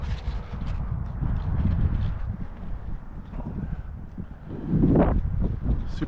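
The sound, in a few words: wind blowing into the microphone outdoors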